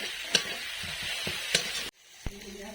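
Garlic paste, ginger paste and green chillies sizzle softly in a pan with tomatoes, a steady frying hiss punctuated by a few sharp spatula scrapes and stirs, with a brief pause before one more knock.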